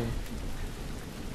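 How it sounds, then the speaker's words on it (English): Steady rain from The Last of Us Remastered video game, a continuous dense patter of drops hissing across a broad range for the whole stretch, fairly even in loudness with no voices. "Rain."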